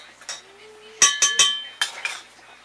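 A utensil stirs garlic Parmesan dressing (Newman's, already containing Parmesan) in a bowl, giving a few sharp, close clinks and taps against the dish in a short irregular burst.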